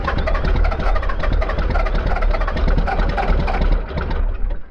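A loud diesel tractor engine runs steadily at close range in freezing conditions, chugging evenly throughout with no talking.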